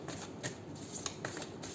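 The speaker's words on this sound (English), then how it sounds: "Three shuffles." A quick burst of tarot cards being shuffled, a dense papery riffle heard up close.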